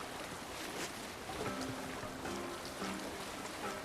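A sailing longship glides over open water in Assassin's Creed Valhalla, with steady wind, wash and lapping waves forming a continuous broad rush and faint creaks and tones drifting beneath it, no voices present.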